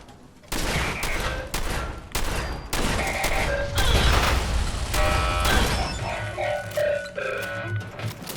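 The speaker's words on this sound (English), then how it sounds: "What exactly are you firing at?" Gunfire in Fallout 4 comes as repeated bursts of shots with mechanical clatter, loud and sustained across the whole stretch after a brief quiet start.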